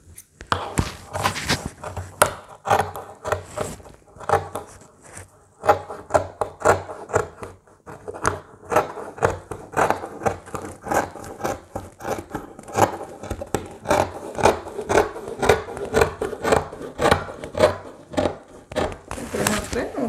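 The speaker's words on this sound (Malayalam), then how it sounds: "അപ്പോൾ അത് നമ്മൾ കട്ട് ചെയ്ത് കൊടുക്കാം." Fabric being cut for sharara pants, with repeated snipping, rubbing and tapping sounds close by, irregular and busy throughout.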